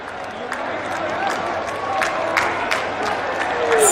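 Applause and cheering from a large crowd welcoming India's Prime Minister at a public event in Aligarh, steady dense clapping with occasional louder bursts and whistles, sustained throughout.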